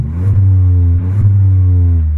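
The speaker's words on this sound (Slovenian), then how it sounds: "da gre za trivalno mašino, zato je zvočna nota precej specifična, ampak taka, fajn" A Ford Focus estate's three-cylinder EcoBoost engine starts and revs, a loud, close, steady thrumming idle with two brief rises in revs, no talking over it.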